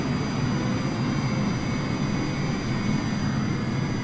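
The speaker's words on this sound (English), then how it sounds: "And let's kill those engines." Jet engines of the Longitude aircraft in Microsoft Flight Simulator 2020, after landing at Auckland, make a steady, loud, broadband roar that holds evenly throughout.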